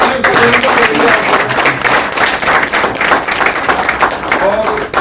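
An audience at an honouring ceremony claps vigorously, a dense, close, loud burst of many hands that keeps going throughout, with faint voices mixed in.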